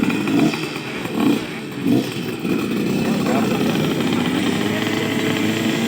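A dirt bike motorcycle at an off-road track starts and revs in short bursts, then settles into a steady loud engine drone, with talk and crowd noise mixed in.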